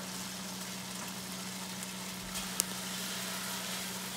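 Onions sizzling in a hot pan with fajita meat that has cooked about ten minutes, a steady quiet frying hiss with a single faint sharp tick, no talking.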